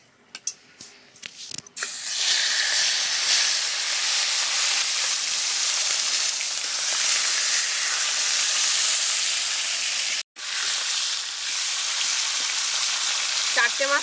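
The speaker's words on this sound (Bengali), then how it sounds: "একে একে মাথাগুলো ভেজে নেব।" Fish heads dropped into hot mustard oil in a wok burst into a loud, continuous sizzle after a few clattering knocks. The spitting roar holds steady, breaking off for an instant partway through before resuming.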